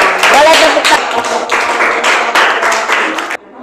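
Indoor audience clapping after a classroom presentation, bursts of applause lasting a few seconds and stopping abruptly near the end, with voices mixed in.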